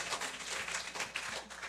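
Applause from a congregation at a live church gathering, a steady wash of many hands clapping at moderate distance, continuous with no voices standing out.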